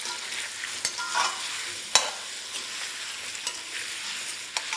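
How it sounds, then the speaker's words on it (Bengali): Diced potatoes fry in hot oil on a medium flame, a steady close sizzle broken by sharp, occasional knocks as a spatula stirs them in the pan, with no voices. "এটাকে আমি ডাইরেক্টলি তেলে দিয়ে ভালো করে একবার ভেজে নেবো"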